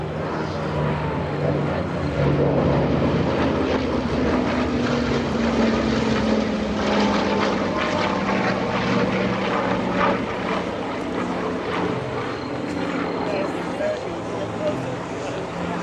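Flying Bulls aircraft making a parade pass at AirVenture, a continuous loud propeller engine roar with shifting pitch, heard under an announcer talking over a public address system throughout.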